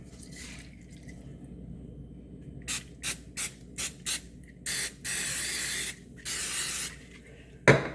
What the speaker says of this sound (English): I'm gonna spray it with some Pam, some non-stick spray.